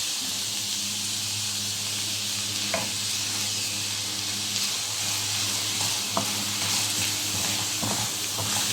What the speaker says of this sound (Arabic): هسه شنو راح نتركه يذبل، قلبناه